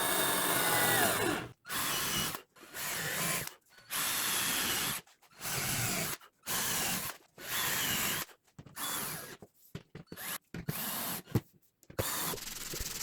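Power drill driving screws into plywood panels for minivan camping bed boxes, a series of short whirring bursts separated by brief silences, close and moderately quiet, no speech.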